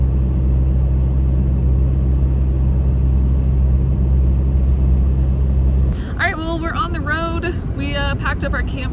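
A car on a mountain road gives a steady low engine rumble and road noise that runs throughout, with a person talking over it in the last few seconds.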